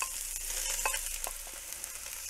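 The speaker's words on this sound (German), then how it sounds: "Und das Ganze braten wir uns jetzt erstmal schön an." Onions, peppers and beans sizzle in hot oil in a pan, with a steady bright hiss and a few crackles and stirring clicks, close up and without voices.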